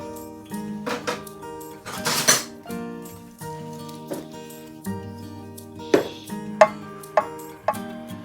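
A spoon scrapes and clinks against a pot while scooping thick, cold banana and coconut dessert with purple sweet potato, making a string of separate metallic taps and knocks at close range.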